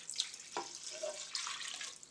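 Water poured into a cooking pot of rice and beef for pilau, a soft splashing pour with a brief clunk partway through, fairly quiet and close, with no talking.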